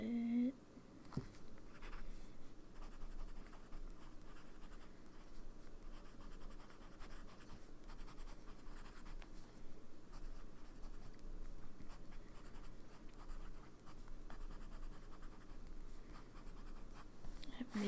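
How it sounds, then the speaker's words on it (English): Montblanc fountain pen with a medium nib writing on paper, a faint continuous scratching of nib on paper with a voice speaking over it. "Medium nib on this pen,"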